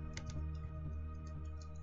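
Light keyboard typing during a typing game, a quick, soft run of key clicks at close range over a steady background hum.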